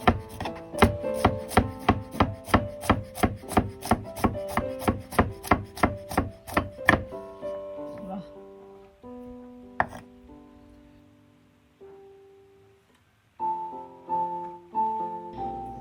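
A knife chops cassava finely on a board in a rapid, steady run of sharp, close strikes for about seven seconds, followed by scattered clinks and softer kitchen handling sounds, with no talk.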